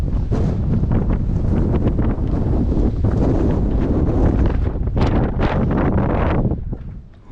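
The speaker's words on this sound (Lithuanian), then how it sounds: "Vėjas taip pučia" Strong wind on Corfu buffets the microphone in loud, continuous roaring gusts that ease off only at the very end.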